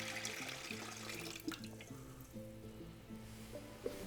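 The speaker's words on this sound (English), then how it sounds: "first we are going to add the water to the mixer" Water poured into a dough mixer for Roman pizza al taglio dough, a faint trickling splash running steadily under soft background music.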